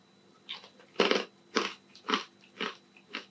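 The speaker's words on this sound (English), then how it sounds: "Let's give it a little crunch. Let's give it a munch." Pork crackling bitten and chewed close up, five or six sharp crunchy bites in a loose rhythm, loud and dry with no talking.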